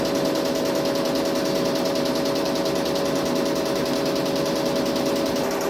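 A DTF printer runs a print head cleaning cycle, producing a loud, steady mechanical whir with a rapid buzzing pulse, constant throughout with no voices.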